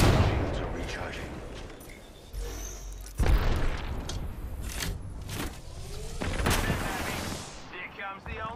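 A grenade blast and gunfire in a video game, heard as repeated sharp cracks and loud broadband bursts, with one heavy thump near the middle, all over continuous game noise and a voice.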